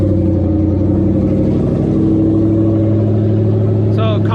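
Drag car engine running at a steady idle after starting, a loud, continuous low rumble with a throbbing drone, while someone talks over it.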